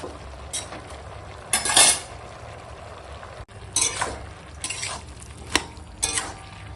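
Chopped leafy greens with tender stems get turned over in a cooking pan, producing several scraping, rustling stirs of a utensil against metal in irregular bursts, close and moderately loud, over a faint soft sizzle.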